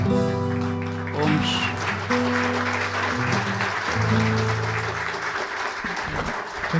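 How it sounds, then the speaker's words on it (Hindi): A crowd claps in a sustained round of applause at an inauguration event on a stage, with sustained musical tones and voices carrying underneath. "ताली की गड़गड़ाहट कह रही है कि उमंग उत्साह में सब आ गए हैं"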